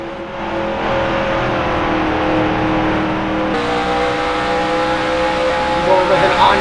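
Race cars in an IROC-style race at Homestead drone past as a steady, sustained engine roar, loud and continuous, with a shift in tone midway as the sound changes.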